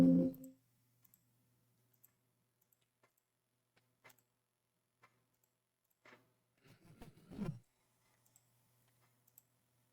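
A computer mouse clicks sparsely while a Minecraft connection fix is carried out, with single crisp clicks spread across a quiet background and a brief burst of faint voice or handling.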